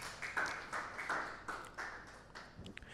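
A church congregation clapping: faint, scattered bursts of hand claps repeating in a loose rhythm, distant and soft, with a little murmuring.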